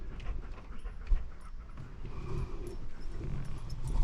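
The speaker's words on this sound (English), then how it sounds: "we got our helper dogs in here with us" Helper dogs inside a garage where a GMC Safari camper van is being stripped, panting and shuffling close by, with occasional paw or claw taps on the floor standing out against a steady, low background.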